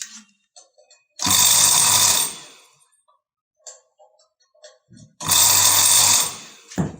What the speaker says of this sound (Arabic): بيلف في الاتجاه ده، يبقى التوصيله كده صحيحه، الساقيه هترفع الميه لفوق كده